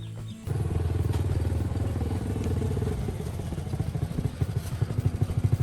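A motorcycle runs steadily along a road under the midday sun, its low engine drone loud and continuous with a brief dip at the start and a pulsing, sputtering rhythm building toward the end.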